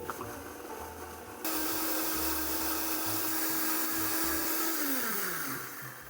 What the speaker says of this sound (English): We're gonna blend that down